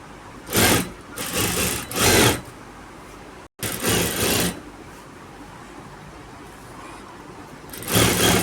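Sewing machine stitching the lining onto a kurti sleeve, running in several loud, steady bursts of rapid needle clatter separated by brief pauses, close up.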